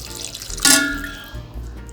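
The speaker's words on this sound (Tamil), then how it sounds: "கொஞ்சமாக தண்ணி சேர்த்துக்கிறேன்" A small splash of water goes into a pan of prawn gravy, one short quiet pour that fades quickly into near-silence.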